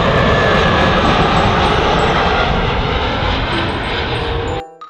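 A passenger airplane's engines roar loudly and continuously in flight, a dense broadband drone that holds steady before cutting off abruptly at the very end.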